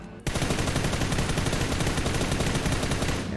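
Sustained automatic gunfire in the mobile shooter PUBG New State while aiming through a 4x scope, starting abruptly and continuing as a loud, dense, rapid stream of close shots to the end, with no voices.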